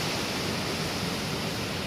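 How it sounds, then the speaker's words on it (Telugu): Water pouring at Kolla Bailu waterfall among hills, a broad unbroken rushing roar, steady and close with no other sounds on top. "ఈ వాటర్ సౌండ్"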